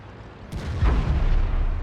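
A heavy shell slams into a tank in World of Tanks, a single deep boom near 0.5 s followed by a sustained low rumbling impact roar, loud and close.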